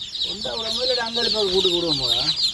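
A chicken clucks in a run of rising and falling calls, close by, with a steady hiss in the background.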